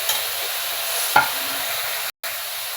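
Green chilli dropped into a pan of lightly fried vegetables for Bengali chirer polao (poha): an even, close frying hiss with one sharp utensil knock midway and a brief drop to silence near the end.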